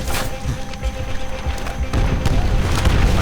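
Grenade explosions in Call of Duty: World at War rumble and thud amid dense battlefield noise, several booms and impacts blending into a loud, continuous, chaotic din with footsteps and gunfire mixed in.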